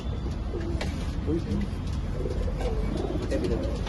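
Pigeons coo in a pigeon loft with soft, repeated low calls and a few short flaps. The loft is steady with background noise.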